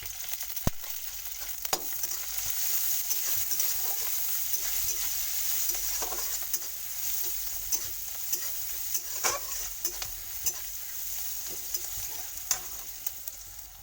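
A spice tempering and sliced onion sizzle in hot oil for a gourd-leaf fish dish, a soft, steady frying hiss with repeated scrapes and taps of a stirring spoon in the pan; no speech.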